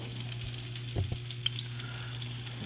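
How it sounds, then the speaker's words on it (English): Short ribs brown in hot oil in a pan, giving a steady, close sizzle with a low hum beneath and a couple of soft clinks as the meat is moved, no talk. "All right, we got the oil hot. I'm getting the short ribs in there."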